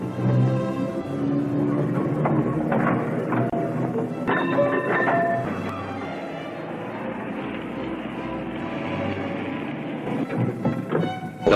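A Hill of Howth tram runs along its line, close and rumbling, with rail clatter and squeals that swell and then ease off as it moves away, ending with a sharp bump.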